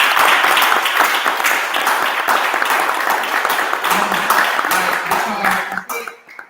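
An audience at a Men's Day forum breaks into loud, dense applause of many hands, sustained for several seconds before thinning out and fading at the end, with a cough or two in the crowd.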